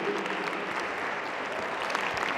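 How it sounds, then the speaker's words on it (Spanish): A business talk audience claps together in a steady, moderately loud ovation with no speech over it, the applause holding evenly throughout. "Denle un aplauso,"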